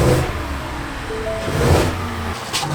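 A 2024 Ford F-150 with a stock 400-horsepower engine revs up loudly nearby, the roar swelling and then easing off over a few seconds.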